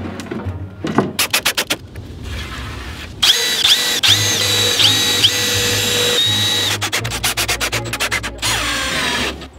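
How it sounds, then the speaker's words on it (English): A power drill drives screws into a drawer lid in a van build, with rapid bursts of whirring and ratcheting clicks alternating with longer steady runs of the motor, close and loud, and no talking. "And this will get screwed into the lid and it'll go."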